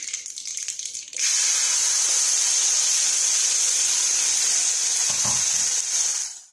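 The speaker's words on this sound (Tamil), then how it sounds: "இப்போ நம்ம இந்த பேஸ்ட்டை போட்டு இதில் நல்லா வதக்கிக்கணும்" Mustard seeds and urad dal crackle in hot oil as a spice paste goes in for a Tirunelveli sodhi kuzhambu, a loud steady sizzle after a quieter first second, with a soft clatter near the end.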